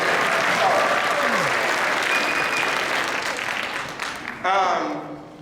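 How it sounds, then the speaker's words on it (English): At a school band winter concert, a large audience applauds in a loud, sustained wash of clapping that gradually eases off, with a voice speaking briefly near the end. "Round of applause for them"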